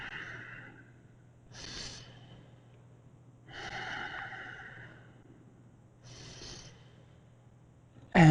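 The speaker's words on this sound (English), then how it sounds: "Find those deep breaths." Deep, audible breaths during a yoga plank hold, several slow breathy exhalations spaced a couple of seconds apart, soft and close, with a low steady hum underneath.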